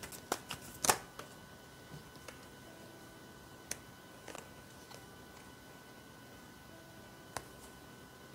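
Tarot cards shuffled by hand during a relationship reading: a few soft, quick riffling bursts near the start, then scattered light taps and flicks at intervals, close and quiet over a faint steady hum.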